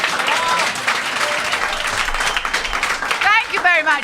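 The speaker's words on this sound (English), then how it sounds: "can we have a huge round of applause to our special guest, Professor Richard Wiseman?" An audience at a live show claps warmly for the winners, a dense round of applause with a few whoops and whistles near the end.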